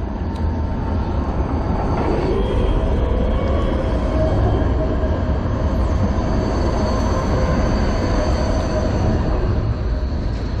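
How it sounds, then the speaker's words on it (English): A tram rumbles past close by in Berlin, with a continuous rolling roar and faint metallic squeals from the wheels, no voices. "So there you go, it's a tram."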